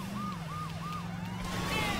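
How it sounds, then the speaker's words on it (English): A police siren in the video game Saints Row 2 wails in rising-and-falling sweeps, fairly faint under a low engine drone, with no talk over it. "Would help to turn the sirens on."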